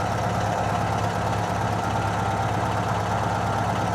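A Porsche 914 with a 2.0 engine runs steadily at idle, a continuous close, loud rumble with a dense low-mid drone and faint mechanical clatter, no talking.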